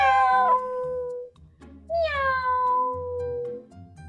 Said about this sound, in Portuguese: O sinal do gato? Gato. Gato. E o som que ele faz é assim.